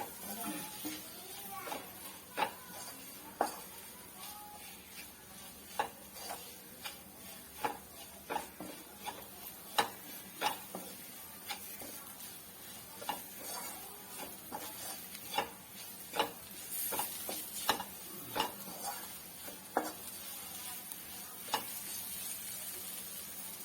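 A pan of chili powder and coriander powder with tomato and onion, cooked for a soya curry, is stirred and sizzles steadily, with frequent scraping strokes of the spoon against the pan in an irregular rhythm.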